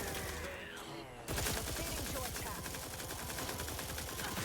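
A powerful OP weapon in The Outer Worlds 2 fires loud, rapid automatic bursts after a brief quieter lead-in, the shots rattling on continuously with a voice partly under the barrage.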